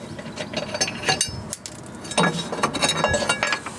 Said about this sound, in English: Now I'm just going to remove the screws and then take the bracket off.